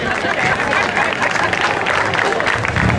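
Applause and crowd noise from spectators at an August 2023 slalom rally awards ceremony in Tiriolo, Calabria, for a class 1150 driver. The sound is a dense, steady wash of clapping and hubbub that runs throughout.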